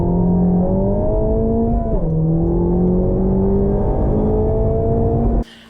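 A 2023 Honda Civic Type R engine revs loud and close, holding a steady, aggressive drone that dips and climbs in pitch before cutting off abruptly near the end.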